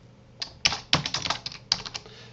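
Typing on a computer keyboard while filling in a word-processor template: a short, irregular burst of crisp key clicks, close and fairly quiet, with small pauses between strokes.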